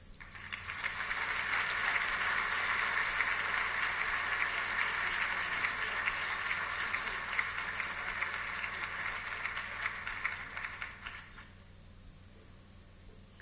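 Sustained applause from a conference audience welcoming Ambassador Susan Rice to give keynote remarks, a steady dense clapping lasting about eleven seconds before fading out.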